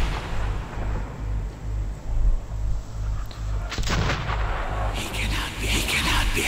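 Weapons firing in Metro 2033: heavy booming shots over a constant low rumble, followed by a cluster of sharper, harsher blasts in the last seconds.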